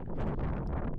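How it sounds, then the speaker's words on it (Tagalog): Wind buffeting an open microphone during a night ride up high in cool air, a steady low rumbling roar that fills the whole second with no break. "Medyo mahangin. Wala tayong mic ngayon."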